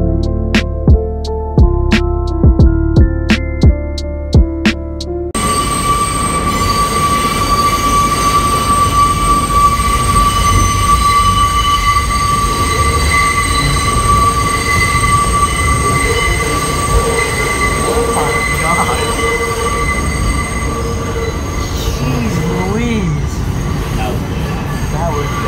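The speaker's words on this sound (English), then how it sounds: "We've been on a lot of trains today, but now we're going underneath the Hudson" A subway train running in the tunnel under the Hudson River roars loudly and continuously, with a high steady whine and squealing wheels, after a few seconds of clicking and tones at the start.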